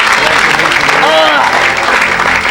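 A church congregation applauds loudly and steadily, a dense wash of clapping with some cheering and voices mixed in, close and continuous throughout.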